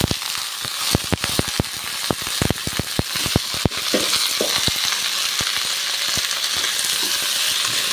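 Sayur pucuk manis, sweet leaf greens, sizzles steadily in a hot pan while a utensil scrapes and clacks against the metal in quick irregular strokes, close and clear with no talk.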